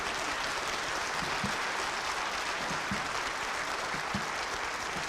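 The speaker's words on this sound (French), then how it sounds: "On vous applaudit." An audience at a French health and neuroplasticity lecture applauds a professor, steady dense clapping at moderate volume with a few sharper close claps, no talking.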